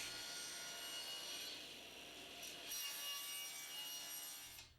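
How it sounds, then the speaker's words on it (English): A table saw fitted with a crosscut sled bevel-cuts the ends of walnut bench parts, giving a steady, loud, close whirring cut with a brief shift midway before it winds down at the end. "we add the crosscut sled and cut the bevel on the ends of the bench"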